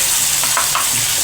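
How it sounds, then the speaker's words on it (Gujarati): Ingredients sauté in hot oil for a Gujarati korth recipe, producing a steady, close sizzle and crackle that lasts the whole moment without any voices. "હવે આપણે તેને સારી રીતે સળવા દઈશું તેલમાં."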